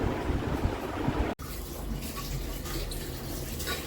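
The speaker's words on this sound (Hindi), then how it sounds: "ये धो रहे हैं बर्तन।" Tap water runs steadily while dishes are washed in a home kitchen in the early morning, a continuous splashing stream with a brief cut partway through.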